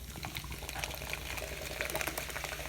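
Cola poured from a can into a bowl, a faint, continuous liquid splashing and trickling with light fizzing, close by and quiet, with no talking.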